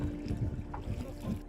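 Strong wind blows over Pong lake, a steady low rumbling buffet with gusty surges across the whole brief stretch, no talk.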